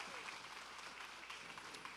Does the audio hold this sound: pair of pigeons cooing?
no